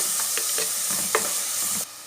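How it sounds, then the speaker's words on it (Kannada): Onions and curry leaves fry in oil in a clay pot, giving a steady, close sizzle broken by a few soft stirring clinks over about two seconds. "ಈಗ ನೀರುಳ್ಳಿ ಹಾಕುವ, ಕರಿಬೇವು ಹಾಕುವ. ಈಗ ಚೆನ್ನಾಗಿ ಫ್ರೈ ಮಾಡುವ."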